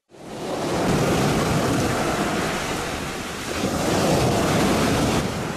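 Ocean surf breaks steadily on a beach along the Mersin coast in Turkey, a loud continuous wash of waves close by with wind buffeting the microphone and no voices.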